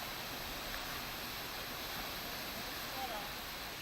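Savatsada waterfall at Parshuram Ghat overflowing in the monsoon, a steady, dense roar of falling water that holds at an even level with no breaks for the whole stretch.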